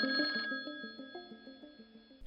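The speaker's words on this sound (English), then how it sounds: "When the phone rang, her hands trembled as she reached for it." A telephone rings in a series of repeated electronic trills with a bright, steady tone, clear and close with no voices, cut off near the end.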